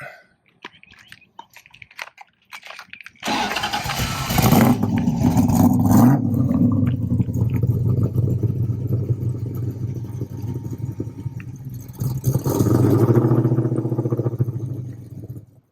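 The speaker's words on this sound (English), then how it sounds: "This is my 1966 Chevy Impala Super Sport." After a few seconds of quiet, a 1966 Chevy Impala Super Sport big-block V8 cranks and fires, then settles into a loud, rumbling idle close by, with a burst of revving near the end.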